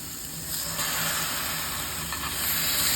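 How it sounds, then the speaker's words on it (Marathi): Mutton pieces drop into a pan of softened onions and sizzle steadily, a constant broadband hiss of frying meat that holds at an even level throughout. "आता मी त्याच्यामध्ये हे मटण घालते"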